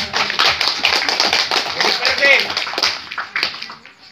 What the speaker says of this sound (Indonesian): Tepuk tangan untuk Pak Sahat